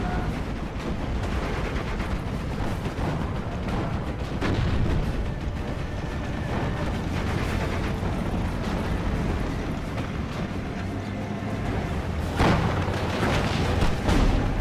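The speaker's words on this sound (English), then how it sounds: "Probably just artillery fire." Artillery fire rumbles through a World War II battle in the strategy game Steel Division: Normandy 44, with repeated deep booms and blasts over a dense, noisy combat background.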